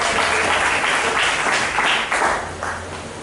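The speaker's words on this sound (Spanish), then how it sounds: "Denle un aplauso a Cristo para que se desconfiere un poquito" A church congregation applauds during a Spanish-language sermon, a dense steady wash of clapping lasting a few seconds with a brief dip near the end.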